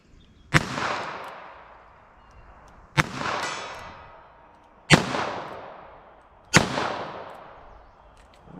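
Four loud gunshots from a .22 Magnum handgun, fired one at a time about two seconds apart, each a sharp crack followed by a ringing, fading tail.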